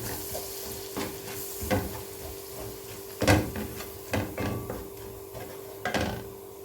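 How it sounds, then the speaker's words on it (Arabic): Flour frying in butter in a pan while being stirred as a base for a béchamel-style seafood soup, giving a steady soft sizzle with occasional scrapes and clinks of the utensil against the pan. "هنبتدي ايه نحمره مع الزبده"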